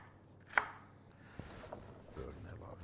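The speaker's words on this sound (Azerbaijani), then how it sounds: "Yenə də biraz bizim kərəvüz doğrayırıq," Celery being chopped coarsely with a knife on a board, a few faint, scattered knife taps in a quiet kitchen.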